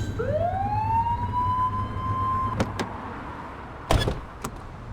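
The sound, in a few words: police car siren blip in a video game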